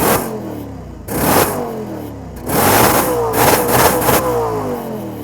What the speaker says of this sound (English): We're gonna turn this thing on and let you hear the exhaust a little bit